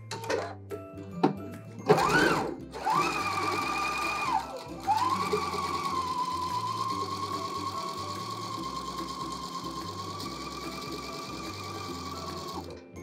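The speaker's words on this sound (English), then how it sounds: "So I'm going to be sewing my stay stitch 3/8 of an inch in from my edge." A sewing machine runs a long, steady stay stitch along a fabric edge, starting after a few clicks of setup and then humming continuously and close at an even speed.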